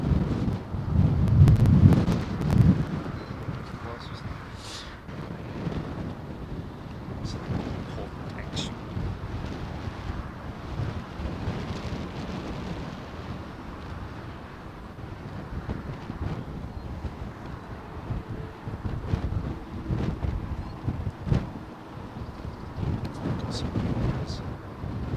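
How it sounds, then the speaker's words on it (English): Strong gusting wind at London Heathrow Airport buffets the microphone with heavy low rumbles, loudest early on and surging unevenly throughout. "Winds are gusting at least 30 mile an hour now"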